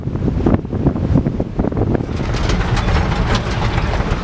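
Strong gusty wind at South Point, Hawaii, buffets the microphone in loud, roaring bursts, growing into a steadier blast in the second half, with no voices.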